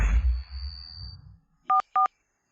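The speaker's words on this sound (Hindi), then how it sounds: "पहले गुरुजी को फोन करता हूँ।" A telephone is dialed: two short, clear keypad tones beep in quick succession after a moment of muffled rustling and near-silence.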